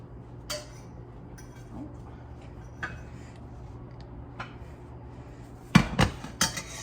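Pork chops with sweet potatoes plated in a kitchen, with sparse light clicks and taps at first, then a burst of louder clanks and scrapes of dishes and cutlery near the end.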